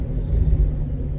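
A car fitted for a rooftop tent, used on the road, rumbles with a low, steady engine drone heard from inside, loud and unbroken with no talk.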